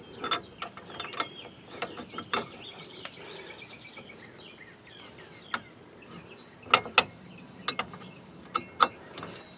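An inner tie rod end tool ratchets and clicks while being tightened on a 2007 Toyota Camry, in irregular bursts of sharp mechanical clicks over quiet background.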